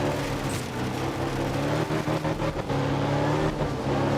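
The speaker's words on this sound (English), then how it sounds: "wrangle a WRX around a really, really wet Sardinia" A Subaru WRX rally car in the game Art of Rally drives on a wet Sardinia stage, its engine droning and revving continuously at close range with no speech.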